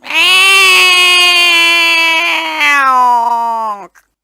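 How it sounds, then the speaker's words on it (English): A single long, loud video game cat meow, drawn out and strained for several seconds, rising slightly then trailing off abruptly. "Suddenly she lets out a thunderous meow."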